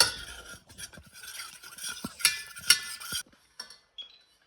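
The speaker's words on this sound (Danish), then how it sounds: "Nu skal vi røre det alt sammen." A utensil stirs a mixture in a pot with rapeseed oil and colouring added, giving scraping, clinking strokes close by for about three seconds, then a few faint taps before falling quiet; no talking.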